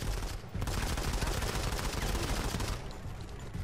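Dense, continuous automatic gunfire from a mobile first-person shooter, Modern Combat 5, loud and close, with a brief gap near the start before the sustained burst of shots resumes and then thins slightly toward the end.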